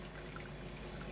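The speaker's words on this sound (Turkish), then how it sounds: "Şöyle haşlanan lahanalarımı soğuk suyuma alıyorum ki rengini kaybetmesinler diye." Blanched chard leaves dropped into a bowl of cold water, heard as a soft, steady pouring and trickling splash. The sound is quiet and continuous throughout, with no voices.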